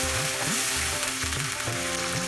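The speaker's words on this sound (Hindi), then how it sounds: "प्याज फ्राई हो गया है, हल्का सा कलर चेंज हो गया। इसी स्टेज पे टमाटर प्यूरी डाल देते हैं।" Onions fried to a light colour sizzle steadily in a pan over medium heat as tomato puree goes in, a dense continuous frying hiss with no talk.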